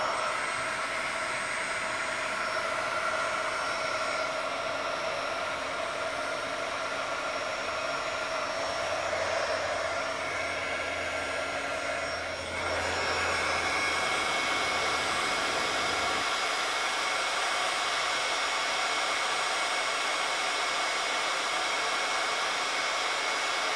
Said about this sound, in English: I'm going to heat up my gun just for a little bit so it's extra hot